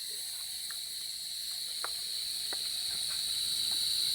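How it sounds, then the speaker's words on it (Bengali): Crickets chirping steadily at night at a resort valley during an outdoor barbecue, a continuous high insect trill filling the background with a few faint clicks and knocks nearby. "চারিদিকে ঝিঝি পোকার ডাক,"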